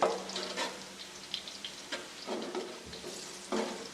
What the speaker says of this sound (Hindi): अब हम इसमें साबित गरम मसाला डालेंगे और इसे फ्राई कर देंगे